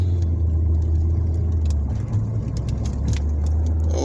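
A Toyota Camry Hybrid pulls away from a stop sign, a steady low engine and road hum filling the cabin at constant loudness with no talking.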